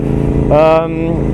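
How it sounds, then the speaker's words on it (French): A KTM 990 SMT road supermoto with a full Akrapovic exhaust system idles with a low steady throb, then blips briefly to a rising rev before settling back, close and loud. "C'est la KTM 990 SMT qui est la version super motard de route."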